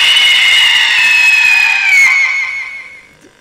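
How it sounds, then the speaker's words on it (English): A loud, high, sustained scream from a horror-style video game rings out for about two seconds and then fades away, with no talk over it. "I heard a scream from your fucking headphones"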